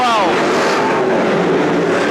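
Super stock race cars at speed around Petaluma Speedway, a loud, sustained engine howl with a rising and falling pitch as a car passes, heard beneath continuous excited announcer commentary.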